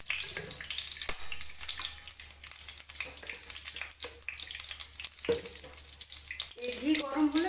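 Ghee heats in a wok, giving a soft, continuous sizzle with scattered crackles and a few clanks of utensils, fairly close and moderately quiet.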